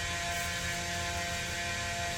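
A vacuum truck pump, driven off the truck's transmission through a PTO shaft, drones steadily while pumping out a home aerobic septic tank, a constant loud hum and whir with no pauses.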